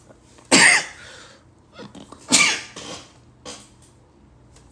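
Two loud, sharp sneeze-like bursts about two seconds apart, each followed by smaller breathy sounds, close to the microphone with no speech.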